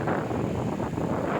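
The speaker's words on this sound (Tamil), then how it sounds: "அடின்னு அடிக்குது காற்று" Strong wind gusts roaring steadily across an open seaside spot at a Tiruchendur-area temple trip, a loud continuous buffeting rush with no pauses and no talk.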